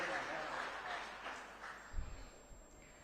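A crowd at a 2024 Lok Sabha election rally in Coimbatore claps in a faint, distant patter that washes steadily through the moment, with a voice sounding over it.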